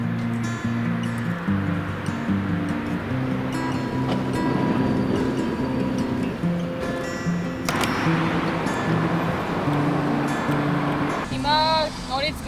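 Ride on a Vienna metro train, a continuous low rumble with humming motor tones that rise and fall, faint background voices, and a brief squeal near the end.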